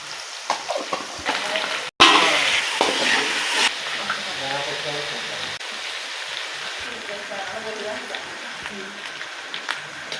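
Food being stirred and fried in a pan with garam masala added, a steady sizzle with scraping stirs, briefly interrupted near the start, while someone talks over it.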